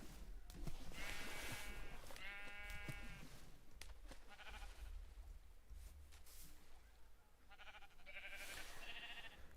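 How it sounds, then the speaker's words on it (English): Several sheep bleating in the Minecraft video game, a few distinct wavering bleats spaced apart over a quiet background hiss, with no talk. "Come on, you 2 sheep."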